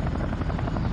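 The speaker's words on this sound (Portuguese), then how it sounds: "Isso é um helicóptero." A Chinook helicopter in the Vietnam '65 video game, a steady, loud rotor thump and engine drone with rapid regular beating, continuous throughout the brief moment.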